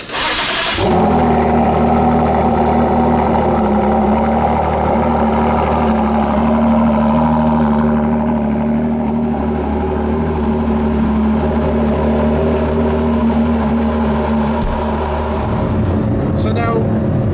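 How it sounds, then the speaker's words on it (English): A Ford GT is cold-started, its engine catching with a loud burst at the start and then settling into a steady, rumbling idle that holds close and loud for most of the stretch before cutting off near the end. "we've got to get the cold start audio clip"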